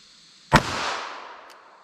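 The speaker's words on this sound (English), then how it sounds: "let's see what we get with our little LCP here with our 380 ACP" A Ruger LCP pistol fires a .380 ACP round into ballistic gel: one sharp, loud crack that fades away over about a second.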